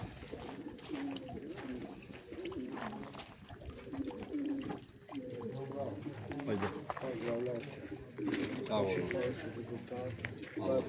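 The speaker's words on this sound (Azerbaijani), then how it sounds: "Göstərim sizə quşları yaxından görəsiniz." Young racing pigeons cooing and calling in a loft, soft low coos under someone talking continuously nearby.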